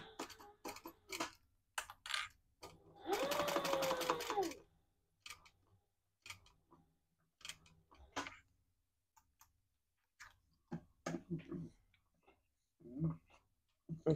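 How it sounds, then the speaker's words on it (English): A sewing machine top stitches contrasting thread on a retro-style sling bag, running in one dense mechanical burst of about a second and a half, with a voice talking before, during and after it. "I'm actually going to top stitch here and here, and then I'll close the side."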